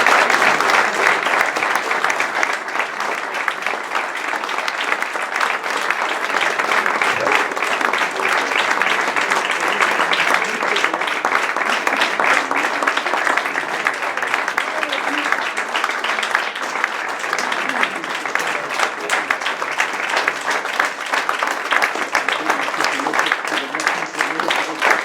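An audience applauds after a speech at an award ceremony, steady dense clapping of a large crowd sustained at an even level for over twenty seconds.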